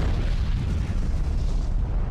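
A massive explosion from the 1883 Krakatoa volcanic eruption, a continuous deep rumbling roar with heavy low boom energy sustained loudly throughout, dense and unbroken like distant artillery.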